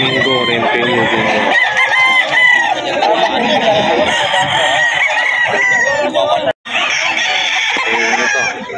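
Several roosters crow over and over, loud and close, with clucking from other chickens in a busy pet market crowded with fowl. Crowing overlaps almost continuously, and a brief silence falls near the end.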